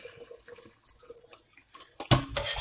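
Cold water splashes into a pot of boiled eggs, starting abruptly after a stretch of quiet dripping and running as a loud, steady gush.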